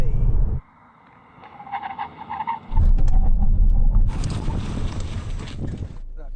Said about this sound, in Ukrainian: мій наступний тест екстрене гальмування зі 100 км на годину